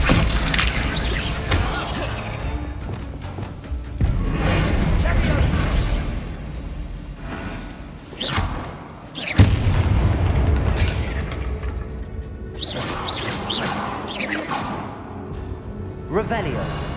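Booming spell blasts and explosions from the Confringo fire spell in Hogwarts Legacy, loud and layered with game effects, several impacts across the span, with someone talking over them.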